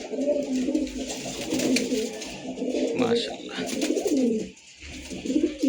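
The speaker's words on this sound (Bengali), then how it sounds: "এই আরও কিছু বিডার কবুতর নিচে আছে" Breeder pigeons coo steadily in soft, rolling, low calls, with someone speaking briefly over them and faint background chatter.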